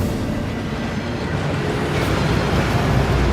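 A waterfall at Gringotts in the Hogwarts Legacy video game pours in a dense, continuous rushing roar, loud and steady throughout.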